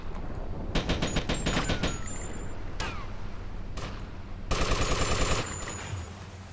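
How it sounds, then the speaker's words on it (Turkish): Gunfire in GTA Long Night Liberty City, with several rapid automatic bursts and a few single shots, fairly close and punchy, ending in one longer sustained volley. "Nasıl sıkıyorlar bak"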